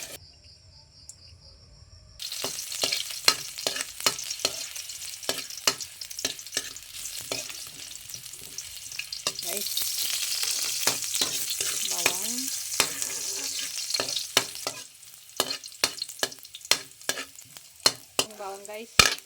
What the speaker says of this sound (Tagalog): Gigisa lang natin yan.